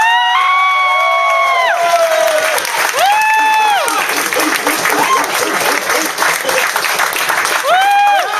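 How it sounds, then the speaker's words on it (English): Loud, sustained applause from a stand-up comedy audience, with cheering and whoops rising over the clapping throughout and a couple of longer shouts near the start and end. "a big applause for Mr. Timothy Bender!"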